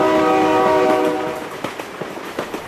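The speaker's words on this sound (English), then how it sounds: "Oh, my God, train!" A train horn blares in a BeamNG.drive crash game, held for about a second before giving way to the rhythmic clatter of a passing train's wheels, loud and close with no talk.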